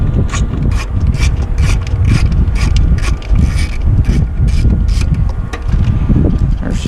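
Loosening a bolt on a 1997 Toyota 4Runner brake booster at a junkyard, heard as a run of rapid ratcheting clicks in quick bursts over wind rumble against the microphone, close and loud, with no speech.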